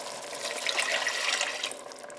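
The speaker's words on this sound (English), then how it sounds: "that's going to be 3/4 of a cup of water" Three-quarters of a cup of water is poured into a pot of butternut squash and potato Rajasthani curry, giving a soft, steady splashing pour that lasts about two seconds with no talking.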